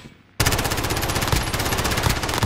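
Rapid automatic gunfire from the video game Call of Duty Warzone starts abruptly after a brief quiet moment, then runs as loud, dense, continuous bursts of shots with no voices.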